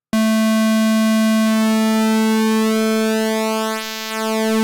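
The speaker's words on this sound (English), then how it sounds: "The pulse waveform has pulse width modulation," Arturia MiniBrute 2 synthesizer pulse wave with pulse width modulation, a loud steady buzzy tone whose timbre slowly shifts and sweeps as the pulse width changes, held alone for several seconds with a brief dip near the end.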